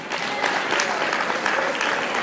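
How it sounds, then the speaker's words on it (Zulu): An audience at a Maskandi music event applauds, giving dense continuous clapping from a crowd, steady and fairly loud, with a voice faintly audible underneath. "ngicela siwashele ihlombe"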